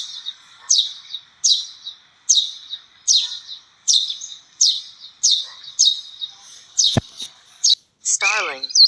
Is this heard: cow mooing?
no